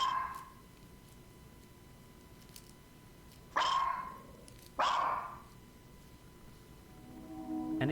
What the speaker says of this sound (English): a dog can be heard barking at it angrily